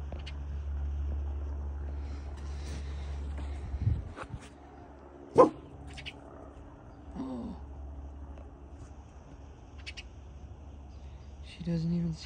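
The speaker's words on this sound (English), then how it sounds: "What are you barking at," A dog gives a few scattered barks and yips at a bird, not very loud, over a low hum, with some quiet talking in between.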